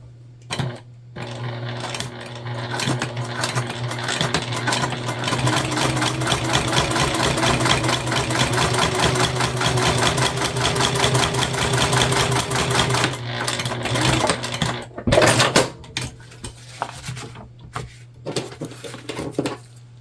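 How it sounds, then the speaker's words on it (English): Sewing machine running a steady top stitch through exterior fabric of a sling bag, a loud continuous close whirring hum for most of the stretch, then stopping with a few short bursts and handling clicks. "But we still want to put a top stitch here in our exterior fabric."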